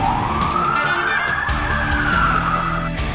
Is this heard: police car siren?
yes